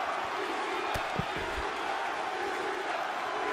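A steady roar of a wrestling arena crowd cheering in the WWE 2K24 video game, loud and continuous throughout, with a few brief thumps from the in-ring action.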